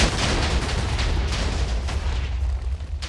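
Many Minecraft blocks blow up together in a continuous, loud rumbling roar of overlapping blasts, with deep booms and crackling bursts layered throughout and no pause.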